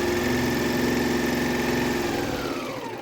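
A sewing machine stitching lemon-print fabric for a table runner makes a steady, close mechanical hum with a fine buzzing texture, holding even for most of the clip before easing off slightly at the end.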